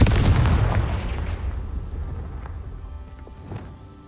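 Confringo fire spell from the video game Hogwarts Legacy explodes in a loud, heavy blast at the start, its boom rolling off into a long fading rumble, with a couple of faint smaller pops near the end.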